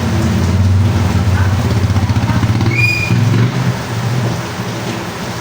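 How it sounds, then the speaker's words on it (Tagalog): Heavy rain falls outside in a dense, steady wash that fades a little toward the end. A low, rumbling drone runs underneath, and a faint voice can be heard. "Maulan na maulan sa labas."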